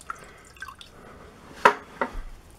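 Two or three soft water drips land close by on carpet, spaced irregularly in near silence.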